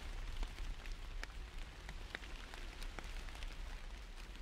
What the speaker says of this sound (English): what else would Garrett do in rainy woods